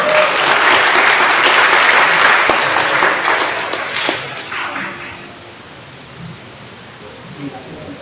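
An audience at a big data meetup breaks into loud, dense applause to welcome a speaker, sustained for several seconds before thinning into scattered claps and fading out, with some voices murmuring underneath.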